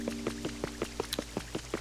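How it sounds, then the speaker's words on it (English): Rain falls in the Pokopia video game, steady patter with regular drip-like ticks over a constant hiss, no voices. "Hey, it's raining too."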